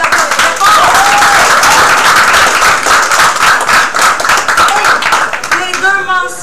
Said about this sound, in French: On vous applaudit fort.